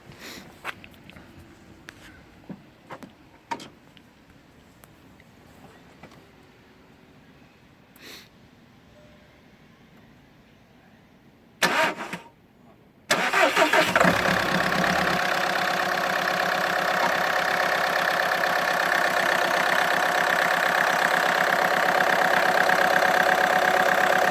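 A Skoda Octavia A5 engine cranks and catches after sitting unused, then settles into a steady, loud idle that runs continuously after a few quiet clicks and knocks.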